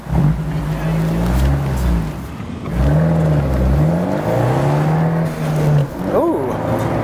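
A 2017 Fiat 124 Spider's engine and exhaust rev hard and close on a track, climbing in pitch in several rising sweeps as it accelerates through the gears.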